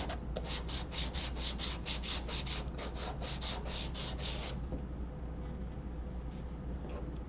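Sandpaper rubs a wooden part from a RoLife Nancy's Bake Shop DIY miniature kit in a close, rapid rhythmic rasp of about a dozen strokes, then stops, leaving faint room noise.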